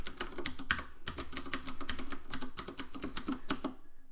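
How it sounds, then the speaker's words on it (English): A password is typed on a computer keyboard as a quick run of close, crisp key clicks in uneven bursts, quiet and without speech. "I'll put in my password."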